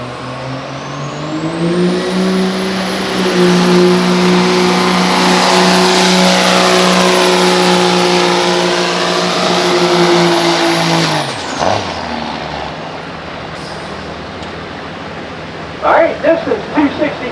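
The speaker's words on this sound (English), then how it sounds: "this truck's got a Cummins in it" A diesel pulling truck with a swapped-in Cummins engine roars at high, sustained revs during a truck pull, a loud steady drone with a rising whine that cuts off abruptly, followed by faint crowd noise.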